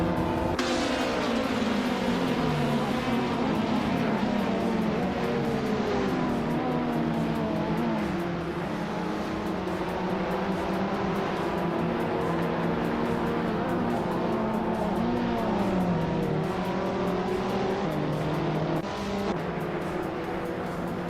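Several race cars in a racing video game roar steadily for the whole stretch, engine pitches rising and falling as they overtake each other nose to tail, loud and continuous.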